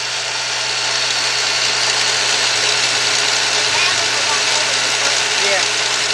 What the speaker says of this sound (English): it's rattling now, guys, and probably when the idle goes down, you can hear it more